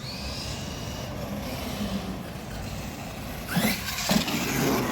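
Losi Bog Hog RC truck driving outdoors, a faint motor whine under steady background noise that swells into a louder, rougher burst near the end as it passes or accelerates.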